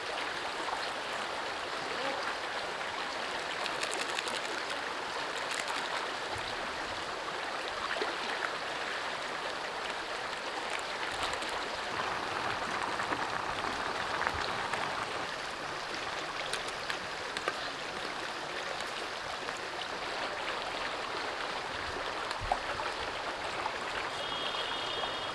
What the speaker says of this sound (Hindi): यहाँ जो पानी बीच में बहता है ना वो सबसे खूबसूरत है, मतलब जो उस शोर से नींद आती है ना